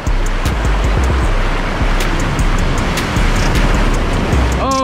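Heavy surf pounds a rough shoreline in treacherous conditions during sheepshead fishing, a loud continuous roar of crashing waves with wind buffeting, steady and close throughout.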